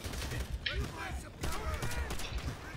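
Rapid machine gun fire in the video game Call of Duty: World at War, a steady crackle of close shots with low booming underneath and voices talking over the battle noise.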